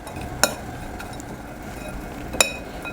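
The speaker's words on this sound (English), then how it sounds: "So the first thing I'm going to do is to stir this oats and the nuts." Oats and nuts being stirred in a bowl for homemade granola produce a soft, steady rustle broken by two bright clinks of a utensil against the bowl, close and fairly quiet.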